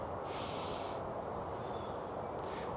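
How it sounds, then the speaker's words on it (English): Deep breaths drawn during a yoga flow class, with a long airy inhale or exhale followed later by a shorter breathy puff, close and moderately quiet with no talking. "Take 3 more deep breaths here."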